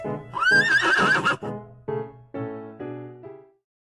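A loud, close horse neigh rising and wavering, followed by a few shorter snorting whinnies that fade out.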